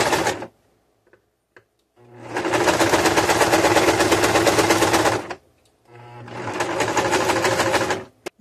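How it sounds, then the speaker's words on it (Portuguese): A sewing machine runs a seam along the edge of a piece of fabric in two loud, steady bursts of rapid stitching separated by brief pauses, with small clicks in between. "Aqui eu vou passar uma costura bem na margem do tecido, retrocesso no começo e no final da costura."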